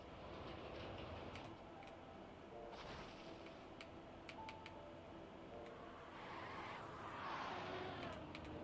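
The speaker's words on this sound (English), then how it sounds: "I hear the cars." Cars in a racing video game rumble past one after another, a moderate, continuous engine drone with occasional clicks and whooshes rising and fading.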